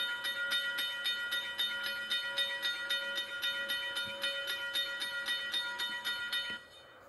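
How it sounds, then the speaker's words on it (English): A German Transrapid train in a railway crossing video game rolls past with a steady, rhythmic clatter, a ringing crossing-bell pattern and a sustained tone, loud and continuous, fading slightly at the end. "That train can still be called German Transrapid"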